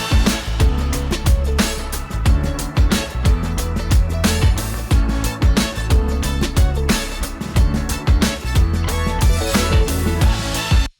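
A guitar riff in the second chorus of a band production sits in a loud, busy mix of driving drums and bass, repeating in a tight, syncopated pattern with no talking.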